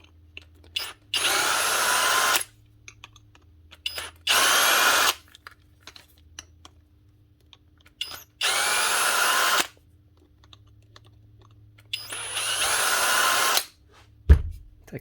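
A cordless power drill backs screws out of a Dewalt DCD740 angle drill gearbox in four separate loud, close bursts of high whine, each a second or two long, with quiet gaps between and a thump at the end.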